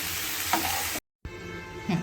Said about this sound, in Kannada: ಬೆಳ್ಳುಳ್ಳಿ ಮತ್ತು ಹಸಿ ಶುಂಠಿ ಇಷ್ಟು ಹಾಕ್ಕೊಂಡು ಹುರ್ಕೊಳಕತ್ತೀನಿ